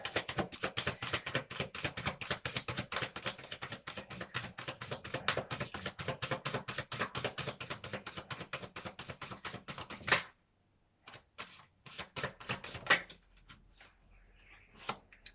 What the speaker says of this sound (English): now I'm gonna sit here for like 15 minutes and shuffle cards at you